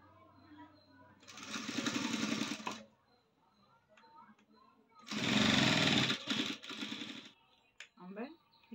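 A sewing machine stitches a blouse in two loud, rapid bursts of a couple of seconds each, close by, with someone speaking quietly in the gaps between runs.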